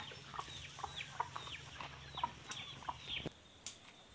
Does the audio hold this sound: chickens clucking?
yes